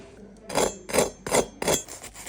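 Four crisp, crackly crunches in a steady rhythm as a knife saws through a flat croissant made in a sandwich maker, close up with no talking.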